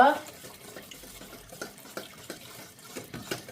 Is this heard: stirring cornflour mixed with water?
yes